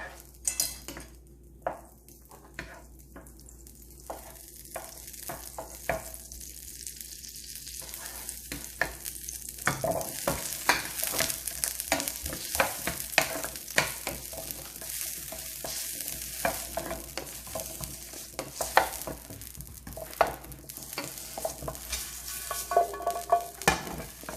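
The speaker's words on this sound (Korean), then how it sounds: "버터를 조금만 더 추가해서 감자, 그 다음에 당근을 볶아 보도록 하겠습니다" Potatoes and carrots stir-fried in butter in a pan, a steady sizzle under frequent spatula scrapes and clinks against the metal, growing busier and louder as the stirring continues, no voices.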